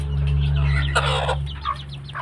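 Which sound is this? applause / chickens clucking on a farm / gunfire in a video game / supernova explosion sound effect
chickens clucking on a farm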